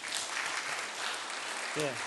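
A church congregation at a Sunday service in a New Jersey Korean Presbyterian church applauds its elders, a steady wash of clapping throughout, with a brief voice-like harmonic sound near the end.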